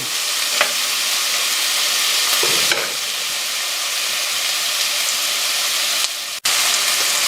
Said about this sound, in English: I'm going to reintroduce the chicken and add all the spices and all the other nice ingredients